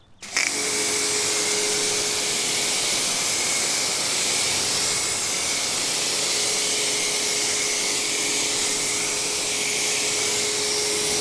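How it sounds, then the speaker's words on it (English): A pressure washer sprays a Mercedes Vito van with a loud, steady, close hiss that starts abruptly and holds unbroken for the rest of the stretch, with no voices. "we will do one more test with the pressure washer"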